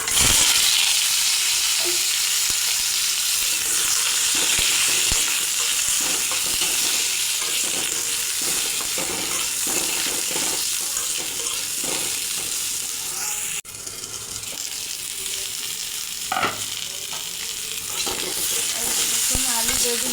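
Potatoes sizzle steadily in hot oil, a continuous frying hiss with occasional soft scrapes of stirring.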